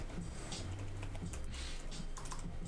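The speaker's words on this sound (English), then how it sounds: "I'm failing at typing commands here." Keys clatter on a computer keyboard as commands are typed during a livestream, with a quick, irregular run of soft clicks close by and a low background hum.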